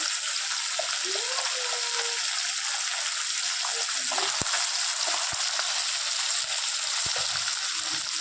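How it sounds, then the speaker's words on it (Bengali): Puti fish fry in hot oil with a steady, close, even sizzle, punctuated by a few faint clicks and pops. "মাছটাকে ভালো করে ভেজে নেওয়ার পালা।"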